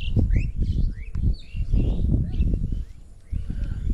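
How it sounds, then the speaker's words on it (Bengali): Village birds chirping and tweeting in quick overlapping calls at a middle distance, with low rumbling noise and a few faint hoof-like clops underneath, fairly loud throughout. "পাখি ডাকার যে শব্দ সেটিও আমরা শুনতে পাচ্ছি।"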